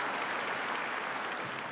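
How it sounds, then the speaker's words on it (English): A large audience at a formal government meeting applauds steadily, a dense even wash of clapping that holds at a moderate level for a couple of seconds. "why don't we give Robert another round of applause"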